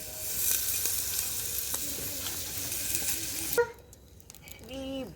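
Chitoi pitha batter cooks in a pan as water is swirled in, giving a steady loud sizzle and hiss that cuts off abruptly, followed by quieter clinks and a brief higher-pitched squeak.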